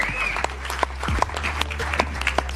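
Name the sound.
applause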